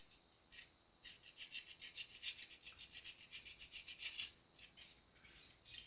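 Fine 600-grit sandpaper rubs burrs off the frets of a Fender Jaguar guitar, making a faint, quick, rhythmic scratching close up with short gaps between strokes.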